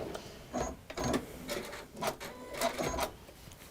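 A sewing machine stitches down a fabric seam in a textile craft session, running in short rapid mechanical bursts with brief pauses, close and fairly quiet with no talk.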